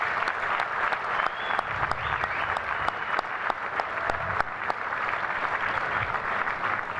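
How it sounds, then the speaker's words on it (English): A crowd at a rugby player-of-the-year awards evening applauds a former captain, sustained warm clapping from many hands in a hall, with a few sharper individual claps standing out and no speech over it. "So if we can just give Gary Teichmann a big hand of applause."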